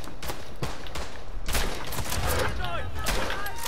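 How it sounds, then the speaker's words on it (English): Video game gunfire crackles in rapid bursts, sharp repeated shots stacking into near-continuous fusillades, loud and close, with excited voices shouting over the shooting. "Oh, he's shooting at me!"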